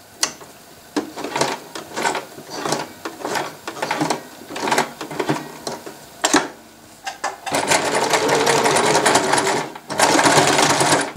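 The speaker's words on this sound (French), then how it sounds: "nous allons passer une couture simple à 5 mm à côté de notre première couture" A sewing machine stitches a simple seam along the side of a sleeveless garment, running in close, loud bursts for the first seconds and then in one longer continuous run near the end.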